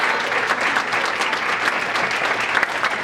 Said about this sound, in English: Keep that round of applause going until she sits down